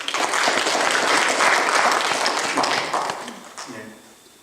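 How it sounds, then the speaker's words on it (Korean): Church congregation applauding pastors during a sermon: dense, steady clapping from many hands, loud and close, fading out over the final second. "우리 목회하시는 목사님에게 박수 한번 하겠습니다"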